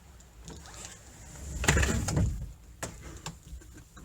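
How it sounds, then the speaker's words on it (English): A sliding balcony door on the Anthem of the Seas cruise ship, cabin 13170, glides open with a soft rumbling scrape and a few light clicks, quiet and close, with no talking. "The doors open really easily."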